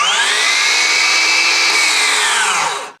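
A FLEX cordless miter saw spins up on a trigger pull and runs at a loud, steady high-pitched whine close by for about three seconds, then cuts off and winds down.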